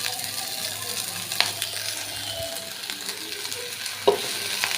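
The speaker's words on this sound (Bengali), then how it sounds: "আর এই যে কাঁচামরিচ, একটু একটু তেলে নিব ভালো করে।" Green chilies and garlic sizzle steadily in hot oil in a pan, with occasional metallic clinks and scrapes of a stirring spoon, close and continuous.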